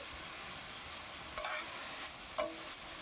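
Sliced onions frying in a pan give a steady low sizzle, broken twice by brief scraping strokes of a spoon stirring them through the oil.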